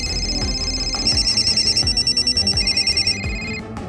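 A telephone rings loudly in a fast, repeated electronic trill, pulsing steadily for several seconds over a dramatic low musical bed, with no voices.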